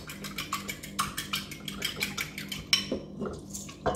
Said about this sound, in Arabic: وتخلطوا البيضه مزيان